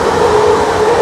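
A loud, close London Underground train roars past with a steady rumbling rush and a faint tonal whine, continuous throughout the short moment.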